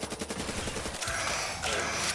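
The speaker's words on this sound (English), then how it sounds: "Oh, Peacekeeper. I remember this gun." A Peacekeeper gun firing in Black Ops 3 custom zombies, a fast, steady stream of close shots that runs the whole time.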